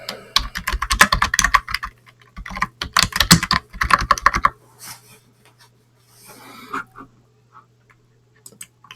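Rapid typing on a computer keyboard at a Linux terminal, two dense runs of close clicking keystrokes followed by a few scattered taps and a quiet pause.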